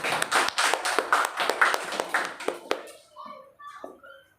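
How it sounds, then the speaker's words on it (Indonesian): Applause for a teacher at an Indonesian school discussion on vision and change, a steady patter of claps that fades out after about three seconds, followed by a short spoken remark. "Tepuk tangan dulu untuk Bapak Ali Harsojo."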